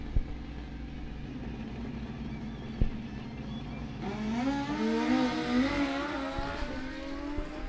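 A Kawasaki drag racer launching at Coles County Dragway during bracket racing, a low idle rumble that swells into a rising revving engine roar partway through, moderately distant.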